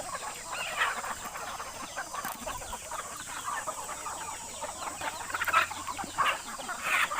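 Four-month-old chickens kept together in a pen at home cluck repeatedly in soft, scattered calls over a faint steady background hiss, with a few sharper clucks near the end.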